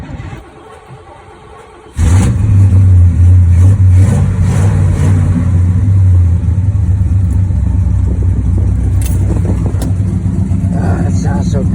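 Old classic muscle-car wagon engine rumbling loud and close after starting, a deep steady roar with revs rising and falling, then settling into a rough running throb, voices faintly under it.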